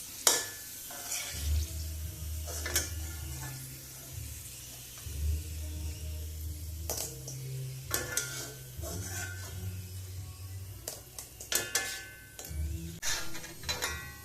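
Pani poori puris frying in oil for a healthy pani poori snack: soft, continuous sizzling with repeated bursts of scraping and stirring, quiet and close, with low hum underneath and no talking.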